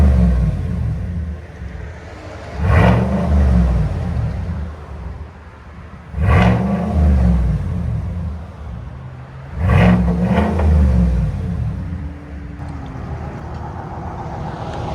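A black 2020 Chevy Silverado with a 6.2L V8 and Borla Atak crate muffler, fitted with a rev limiter, rises in three loud, sharp revs about every three and a half seconds over a steady, deep idle rumble.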